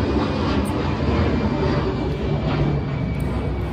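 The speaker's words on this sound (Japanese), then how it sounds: "あ、飛行機、" An airplane flies overhead, heard as a broad, steady engine roar that stays loud throughout, with no talking.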